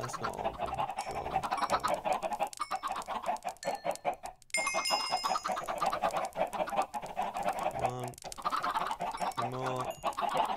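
Minecraft chickens on a chicken farm cluck and squawk continuously in a busy, synthetic-sounding chorus, with a brief pause partway through and a few pitched chirps.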